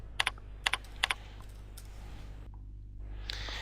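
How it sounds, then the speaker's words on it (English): Name being typed on a computer keyboard in business software, a few crisp close key clicks in quick clusters followed by quieter taps, with no voice. "Typing the name into the field at the bottom of the screen selects the most relevant record"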